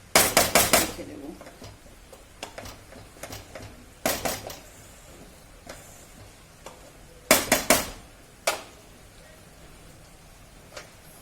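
A metal lid set down on a cooking pan of chicken bhuna masala in a home kitchen, giving several loud, close clattering clinks in separate bursts with quieter knocks between them.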